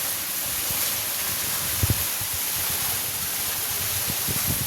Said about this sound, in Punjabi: ਲਗਾਤਾਰ 2 ਘੰਟੇ ਹੋ ਗਏ ਆ ਹਜੇ ਵੀ ਮੀਂਹ ਕੋਈ ਹਟਣ ਦਾ ਨਾਂ ਨਹੀਂ ਲੈ ਰਿਹਾਗਾ